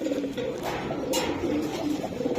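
Rampuri and Kamagar pigeons, both males, give low, steady throaty coos up close in a short continuous run, with a brief rustle partway through.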